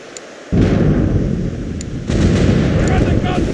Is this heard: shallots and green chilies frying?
no